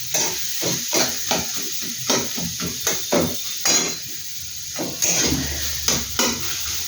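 Onions fry in a pan under repeated stirring, a rhythmic series of sharp spatula scrapes and knocks over a steady close sizzle, with no talk.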